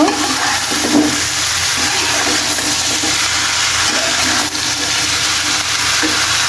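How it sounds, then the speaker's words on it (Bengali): Capsicums frying in a pan give a steady, loud broadband sizzle that runs unbroken throughout, with faint scraping touches and no voices. "আর এখন ক্যাপাসিটিগুলো ভেজে নিব"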